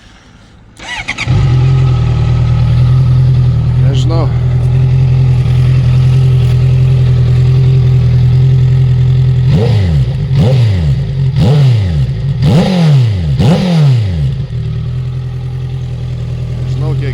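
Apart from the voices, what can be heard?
Honda CBR650F 2016 motorcycle engine running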